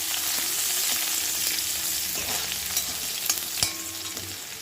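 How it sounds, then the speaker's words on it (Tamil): Small onions sauté in hot oil where mustard seeds have begun to splutter, a dense close sizzle with scattered sharp pops and light stirring sounds near the end, unaccompanied by talk. "இப்போ இது கூட ஒரு நாலு சின்ன வெங்காயம் போல் வெட்டி வச்சுக்கோங்க அதை சேர்த்து வதக்கிக்கலாம்"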